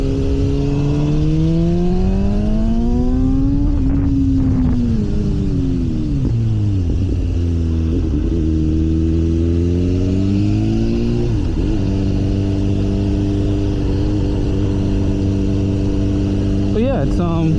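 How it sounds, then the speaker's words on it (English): A BMW S1000R motorcycle engine heard from the rider's position, steady and loud throughout, its pitch climbing and falling through several throttle blips and gear changes over constant road and wind rumble. "I'll give it a little throttle here for you in a second."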